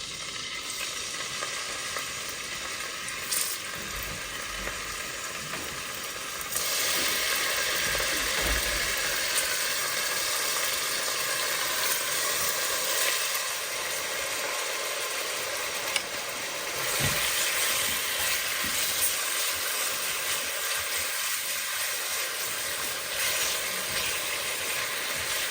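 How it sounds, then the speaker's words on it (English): Bacon frying in a pan, a steady crackling sizzle that holds throughout, with a few soft clicks and pan noises but no voices. "Let me get some bacon cooking here."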